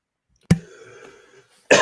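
One person gives a sharp, close cough, a short rough throat-clearing rumble follows, and a second cough cuts in at the end, the room otherwise quiet.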